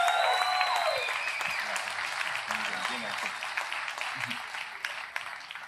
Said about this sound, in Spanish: Vamos a darle un aplauso al Espíritu Santo fortalecido.